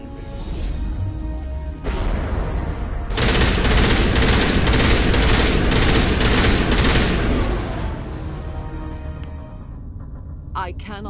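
Sustained automatic gunfire in Mass Effect, a dense loud fusillade of rapid shots that swells for several seconds and then fades, with voices speaking in the scene around it.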